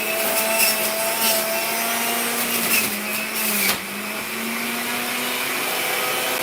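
A juicer whirs steadily as celery is fed in for a morning juice, a continuous motor hum with a brief dip and grinding change partway through as the stalks are pushed down, then the drone holds on.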